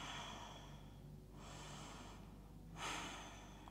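Slow, deep breaths during a yoga session, with two long hissing exhales heard close and faint against a quiet room.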